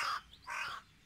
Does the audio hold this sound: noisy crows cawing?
yes